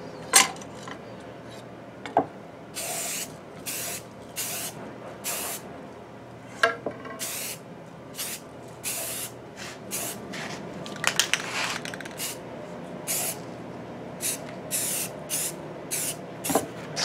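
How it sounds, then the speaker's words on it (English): Short, loud hisses of a spray can of primer fire off repeatedly in uneven bursts while priming a school desk, with faint clicks and rattles between sprays. "I'm going to spray can prime the whole thing."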